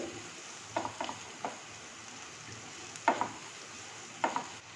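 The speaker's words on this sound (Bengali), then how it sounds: "সবজিটা ভাজা ভাজা হয়ে গেছে" Vegetables with turmeric frying in a pan while a spatula stirs them, giving a faint, soft sizzle broken by a few sharp scraping strokes at irregular intervals.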